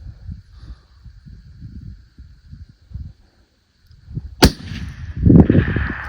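A single rifle shot rings out during an Idaho deer hunt, a sharp, loud crack partway through, with outdoor rustling and low handling noise before and after.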